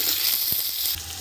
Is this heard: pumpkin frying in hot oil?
yes